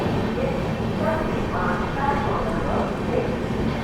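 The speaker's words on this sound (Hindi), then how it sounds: "अपनी विक्रमशिला एक्सप्रेस ने स्किप कर दिया है प्रयागराज जंक्शन रेलवे स्टेशन को।" The 12368 Vikramshila Express runs through Prayagraj Junction railway station without stopping, a loud steady roar of wheels and carriages close by, with a voice talking over it.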